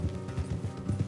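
Horses' hooves clip-clopping in a video game, a steady close rhythm of several muffled thuds in quick succession with no talk over it.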